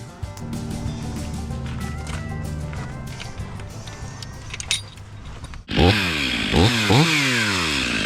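A chainsaw works on a large cypress tree, idling and revving steadily before cutting the wedge loudly and close, its pitch rising and falling sharply with each pass through the wood.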